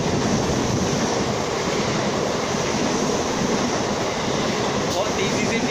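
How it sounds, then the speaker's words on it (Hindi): A fast train in Mumbai rushes past with a loud, continuous broadband roar that holds steady for the whole stretch, close by and drowning out other sound. "एक सेकेंड ट्रेन जाने दो"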